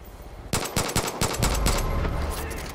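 A gun fires rapidly in Far Cry 5, a quick string of close, sharp shots, followed by a rumbling tail as the burst ends.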